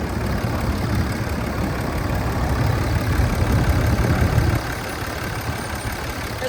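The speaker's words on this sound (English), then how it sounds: "There's a lot of wind coming off the fan, so, but this is like totally fine." A 2012 Ram 2500 with a Cummins diesel engine idles with its fan running, making a steady low rumble under a rushing wind-like whoosh. The rumble eases slightly near the end.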